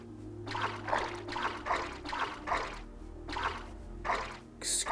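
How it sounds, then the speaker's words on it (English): Wet, splashy water sound effect in a video game, a series of repeated pouring and trickling bursts in an irregular rhythm, close and moderately loud, with a brief sharper sound at the end. "This, like, water sound effect is awful."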